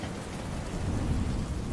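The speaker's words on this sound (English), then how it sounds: "All that was left was the sound of the raindrops clicking against the window." Rain falls steadily with a dense, even patter and low rumble, continuous and fairly close throughout a short stretch.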